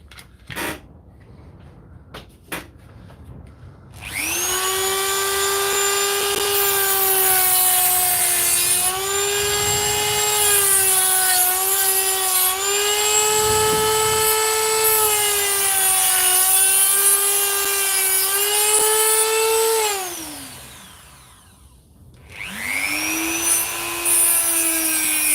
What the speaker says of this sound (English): sawing the cells out of the battery with the Dremel on a Sunday night